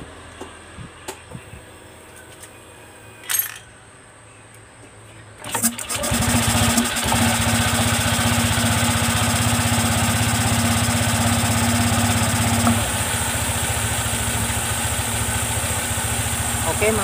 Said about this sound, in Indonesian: Oke, sekarang kita hidupkan motornya.